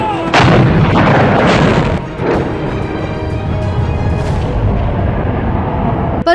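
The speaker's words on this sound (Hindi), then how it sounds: "जमकर बमबारी भी हुई।" Artillery bombardment from the Kargil War rings out as loud, heavy booming blasts with long rumbling echoes, one strong hit early on and more distant thuds rolling after it.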